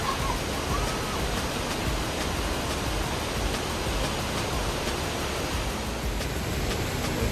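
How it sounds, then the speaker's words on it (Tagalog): Daday Falls waterfall in Alamada, Cotabato, a dense, constant roar of falling water that is loud and near and fills the whole clip without a break. "So napakagandang waterfall dito sa Alamada, Cotabato."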